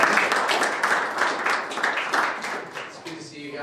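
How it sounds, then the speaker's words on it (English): A room of students and staff at a school career day gives Kevin a round of applause, a dense burst of clapping that fades out over a few seconds. "So a round of applause for Kevin."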